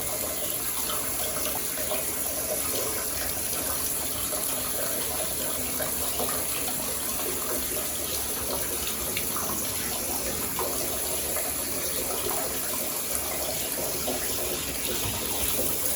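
Steady, full-force rush of shower water fills the whole stretch, continuous and close, with no talking.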